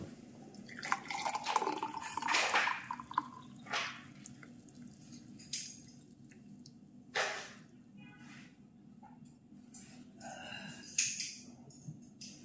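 Turmeric juice pours into a glass in several short splashing bursts with quieter dripping between them, close and fairly soft, over a low steady background hum.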